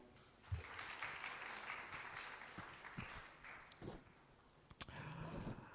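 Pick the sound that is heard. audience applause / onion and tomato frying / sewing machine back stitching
audience applause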